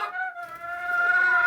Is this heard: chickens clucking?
yes